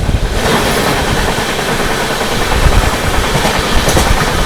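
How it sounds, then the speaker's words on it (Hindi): Shram Shakti Express train passing close by on the Delhi to Kanpur line, a loud continuous rumble with wheel clatter and swelling rushes, heard from an adjacent moving train in heavy rain. "सामने से आती हुई दिल्ली से चलकर कानपुर की ओर जाने वाली श्रम शक्ति एक्सप्रेस"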